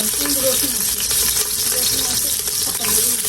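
Onions and chillies frying in a pan with cumin and bay leaf, a steady close sizzle with light stirring scrapes and a voice talking over it.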